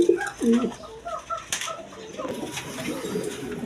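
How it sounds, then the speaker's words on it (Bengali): Indian Bombay pigeons coo in short repeated rolling calls close by, with soft rustling and a brief clatter around them. "এখানে একটা ইন্ডিয়ান বোম্বাই অরিজিনাল বোম্বাই কবুতর আছে দেখেন"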